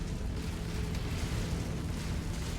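In Mechwarrior 5, a steady, dense, low rumbling roar from an artillery explosion fills the scene, loud and continuous with no distinct separate blasts and no talking.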